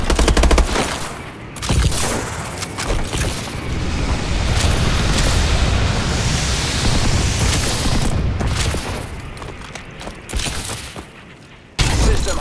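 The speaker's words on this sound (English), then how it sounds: "Friendly bombing run incoming." A friendly bombing run in a first-person shooter, loud rolling explosions and dense bursts of gunfire piling into a sustained roar, with booming impacts near the start and end.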